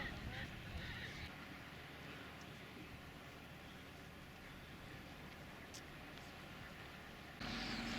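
Migratory birds on a Shetland island with seabird cliffs call in goose-like honks. The calls are scattered and fairly distant over a steady, noisy outdoor wash that brightens near the end.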